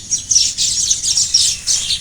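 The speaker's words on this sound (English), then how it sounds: "there are many nest of weaver birds and they are chirping" Weaver birds chirp from their nests in quick, high, bright bursts, a busy overlapping chatter that stays loud and near for the whole moment.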